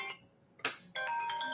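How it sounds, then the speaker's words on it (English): A phone ringtone chimes briefly in a quiet room, a short bright melodic burst, then a sustained electronic tone after a pause, with no talking over it. "I got a phone call."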